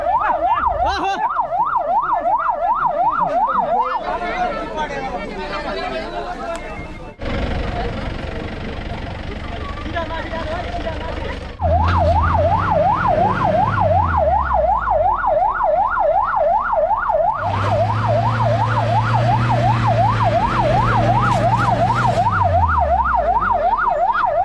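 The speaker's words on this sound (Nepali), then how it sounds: "चालकले बाटोको कान्लाबाटै एम्बुलेन्स छिराइदिए।" An ambulance siren wails in a fast, rising and falling pattern as the vehicle edges through a traffic jam on a roadside. Engine rumble sits underneath, and voices talk at times over the steady, loud siren.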